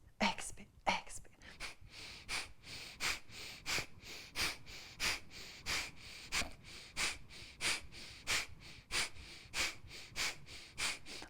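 Forceful exhalations during a vinyasa yoga breathing exercise, pushed out through the nose in a steady, rapid rhythm of short, close, sharp bursts of air that keep going for many repetitions.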